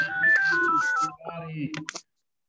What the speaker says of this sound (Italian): Qualcuno ha il microfono acceso e il cellulare che squilla.